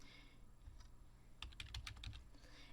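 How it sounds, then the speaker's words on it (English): Keys clacking on a computer keyboard while a first and last name is typed, a quick burst of close, faint taps in the middle of a quiet stretch. "your instructions say next to please type in your first and last name"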